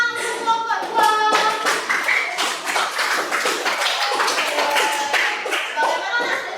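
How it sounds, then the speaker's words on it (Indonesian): A classroom of children clapping together in a rhythmic, patterned beat, close by, with a few young voices mixed in. "kita beri tepuk tangan untuk kelompok 2"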